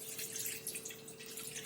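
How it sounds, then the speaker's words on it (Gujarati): Water is poured into a kadai sitting on a gas stove, making a faint, steady trickle and splash for under two seconds with no talking. "આપણે ગેસ પર એક કઢાઈ મૂકી છે અને તેની અંદર આપણે પાણી લઈશું"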